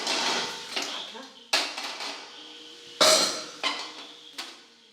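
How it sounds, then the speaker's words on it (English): Aluminium wok handled in a kitchen, several sharp metallic clanks and knocks at irregular intervals, each ringing briefly before fading, close to the microphone. "For that, I'll take a wok."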